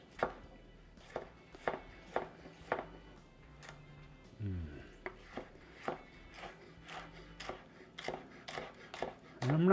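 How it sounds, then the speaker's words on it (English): A knife dices peppers steadily on a cutting board, quick regular taps with a brief pause and a faint sizzle of bacon cooking in the background. "I'm going to dice the peppers up."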